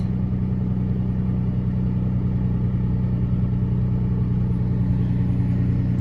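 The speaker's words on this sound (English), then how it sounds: "I think it's got a timing chain rattle, which is kind of typical in these" A high-mileage Ford Ranger 4x4 truck engine idles steadily at close range with a low, continuous rumble and a slight vibration, its suspected timing chain rattle sitting within the drone; no one talks.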